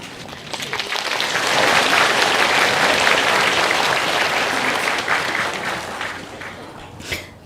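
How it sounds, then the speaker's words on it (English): An audience at a Buddhist Dharma talk on the Shurangama Sutra breaks into sustained applause, a broad, steady wash of many hands clapping that swells, holds and then tapers off. "Thank you for being so polite and generous with your clap and your clapping"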